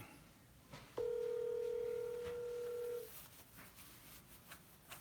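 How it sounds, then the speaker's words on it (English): A telephone call being placed gives a steady electronic tone lasting about two seconds, clear and fairly loud over a quiet background with faint room noise. "Let me see if I can get him on the phone."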